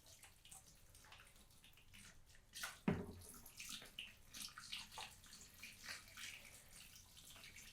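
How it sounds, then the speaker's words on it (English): Water poured from a container onto a coco coir brick in a bucket, with soft splashing and trickling and one brief sharper splash, quiet and close. "Flip it over and then add the rest of the water here."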